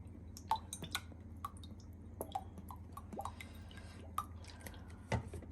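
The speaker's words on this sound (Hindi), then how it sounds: "सोया सॉस डाल दिया तकरीबन 3-4 चम्मच।" About three or four spoonfuls of soy sauce trickle into roughly a cup of vinegar, making soft, irregular drips and small liquid plops, close and quiet, with no speech.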